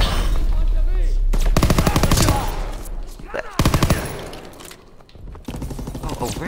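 Loud gunfire from a Call of Duty WWII D-Day battle, rapid automatic bursts and single shots close up, repeating in heavy volleys over a rumbling combat background.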